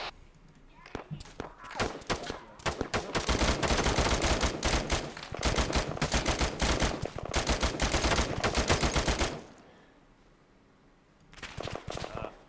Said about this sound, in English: Taking shots from the west side